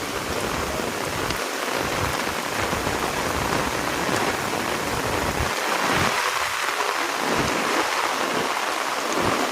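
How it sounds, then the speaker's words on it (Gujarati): Heavy rain pours steadily and loudly on a village in Gujarat, a dense continuous hiss of water hitting surfaces with no voices. "વરસાદ તો જો મારો વરસાદ તો જો"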